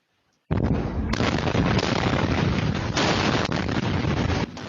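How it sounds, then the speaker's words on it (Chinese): A loud, booming roar of a series of chemical explosions at a waste-oil dump site starts abruptly and rumbles on continuously, with fresh blasts renewing the thunder partway through. "連續爆炸聲撼動4區圍，連監視器鏡頭也在搖晃"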